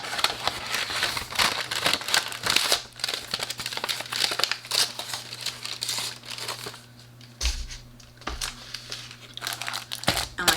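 Crinkling and tearing of plastic and paper packaging as Hobonichi planners are unwrapped, close and steady with occasional sharper rips.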